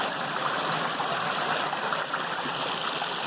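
A creek runs in a steady, even rush of water over rocks, close and constant throughout, with no voices.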